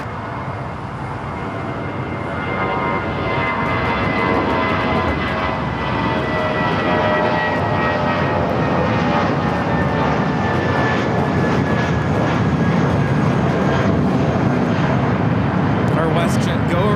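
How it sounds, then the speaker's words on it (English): A Delta Airbus A350, Flight 7, takes off from LAX bound for Tokyo Haneda, jet engine noise swelling into a loud sustained roar that builds over the first few seconds and stays strong, with a voice talking over it. "Here we have the Delta A350 with the Delta Spirit stickers, Flight 7, taking off to Tokyo,"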